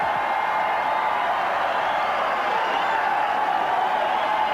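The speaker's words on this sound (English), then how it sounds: "listen to the crowd at 17" A golf gallery at the 17th hole of the 1986 Greater Greensboro Open cheers a putt, a loud, sustained roar of many spectators that stays steady from start to finish.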